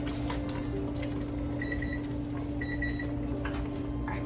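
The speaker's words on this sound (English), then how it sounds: "my timer is about to go off" Kitchen timer going off during jam-making, a short series of high electronic beeps in two quick bursts over a steady low hum of a boiling pot, fairly faint and with no talking.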